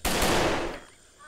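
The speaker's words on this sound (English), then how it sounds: "That's a machine gun." A single loud, close burst of machine gun fire from the military video game ARMA 3, a sharp onset that roars for under a second and then drops to a quieter tail.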